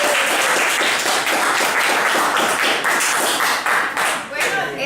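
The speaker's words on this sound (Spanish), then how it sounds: "quiero pedir un aplauso para todos ustedes y para nosotros" Applause for students at the end of a classroom group presentation: a dense, steady crowd of hands clapping loudly and continuously for several seconds.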